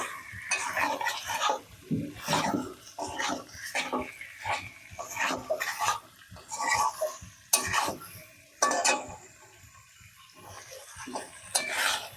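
Potatoes are stirred with a ladle into Bengali chicken curry frying in a pot, giving repeated scraping and clattering strokes over a soft background sizzle, close and fairly loud with no talking.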